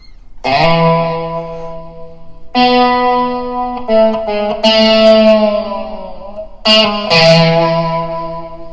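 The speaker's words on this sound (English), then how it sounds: "Now obviously it sounds cooler with a lot of distortion." Sustained electric guitar notes with heavy distortion ring out loud and alone, played as a slow riff with several held, buzzing tones.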